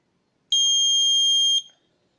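A single loud, piercing electronic beep from an automatic irrigation system's buzzer alarm, signaling no water in the field, holds steady for about a second, then cuts off, leaving quiet.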